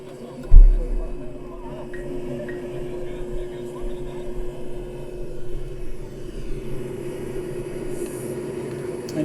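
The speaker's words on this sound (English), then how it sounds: "It's just a regular automobile. It has a jet engine in it." A sharp thump, then a steady low jet turbine engine drone from a car, with a faint whine that swells slightly, as muffled voices murmur in the background.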